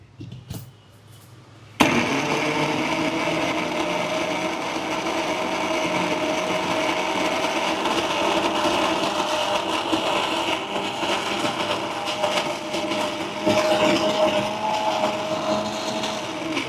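Kitchen mixer grinder blending, a loud steady motor whir with rattling that starts abruptly after a short quiet opening and runs continuously, close by, with slight shifts in pitch near the end.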